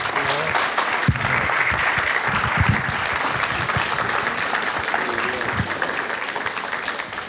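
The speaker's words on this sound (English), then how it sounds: "Let's give them a round of applause." An audience applauds the candidates at a candidates night, a dense steady clapping that fills the room for several seconds at an even loudness.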